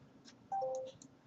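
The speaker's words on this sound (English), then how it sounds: "Sorry about my phone going off again there." A mobile phone ringtone sounds briefly with two overlapping steady electronic tones, near and moderately loud, over a quiet room background.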